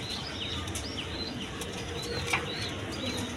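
Pigeons flap their wings in short scattered bursts, faint to moderate, over a steady background hiss with occasional soft bird calls.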